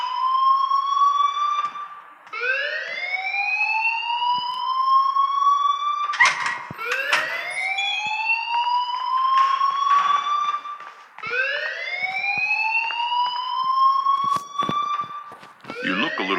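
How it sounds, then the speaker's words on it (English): A fire alarm rings in the Life is Strange game, a loud repeating electronic whoop that rises in pitch over and over with short gaps, while a voice speaks over it. "please turn off that alarm since that's your job"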